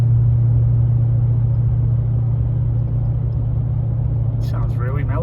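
A vehicle engine holds a steady, even low drone at cruising speed, 65 mph and about 1,800 RPM, loud and constant throughout, with a brief burst of a voice near the end.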